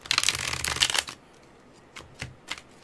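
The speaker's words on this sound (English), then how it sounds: "I can fucking just use the card shuffling sound to fill time" A deck of tarot cards is riffled in a dense, papery burst of about a second, followed by a few quieter flicks and taps as the cards settle, close and clear with no talking.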